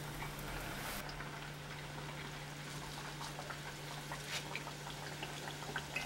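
Dough fritters (pitoula) sizzling in hot oil in a home kitchen, a soft continuous bubbling crackle with scattered pops, faint and steady with a low electrical hum beneath.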